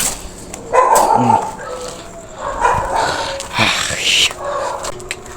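Several dogs bark and yip in scattered bursts, some close and some farther off, over a noisy outdoor background.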